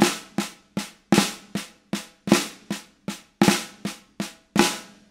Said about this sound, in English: it is a flam and then two alternating strokes